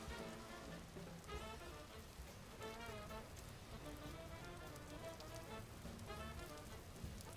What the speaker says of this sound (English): Is it raining still?